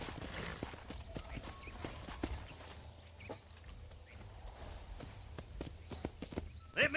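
Horse hooves clip-clop at an irregular walking pace in the Red Dead video game, fairly close and moderately quiet, ending with a short whinny and faint background voices.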